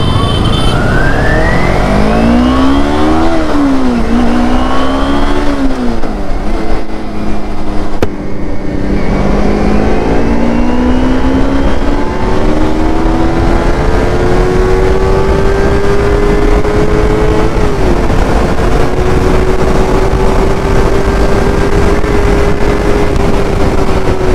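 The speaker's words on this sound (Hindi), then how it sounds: "अरे इंजिन जाम स्मूथ आहे रे, जाम स्मूथ आहे" A motorbike engine revs smoothly and steadily while riding on a Republic Day trip to Veer Dam, its pitch sweeping up and down with gear changes before settling into a sustained, even drone up close over wind rush.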